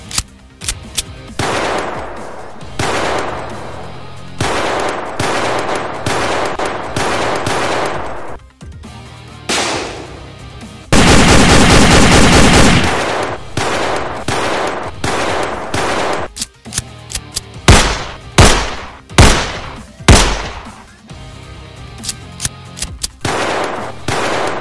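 Celebratory Eid gunfire rings out in a long, loud series of shots and bursts, some of them rapid machine-gun volleys, with no speech.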